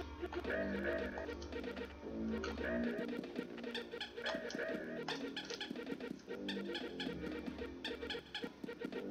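Squawking pirate birds in Donkey Kong Country 2 sound in repeated clucking, chattering calls over steady game music, filling the whole stretch at a moderate level.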